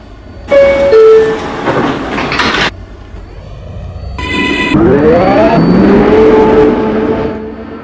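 A video game subway train, a Pelham Bay Park-bound 6 local, heard up close: chimes and an electronic tone sound, then a motor whines up in pitch as the train rumbles and pulls away.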